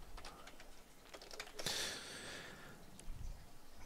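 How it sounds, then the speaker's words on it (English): Fingers tapping a computer keyboard, a quick run of faint close keystrokes followed by a sharper click, quiet and without talk. "I just type in multimc."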